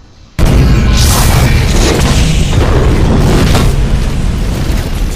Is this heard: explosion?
yes